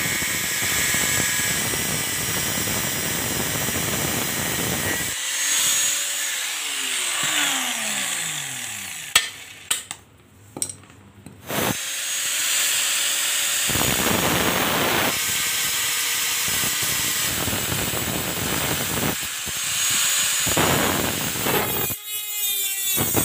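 An angle grinder cuts into a stuck mountain bike bottom bracket, a loud continuous rasping whine that stops and restarts with brief pauses and scraping in between, without talk.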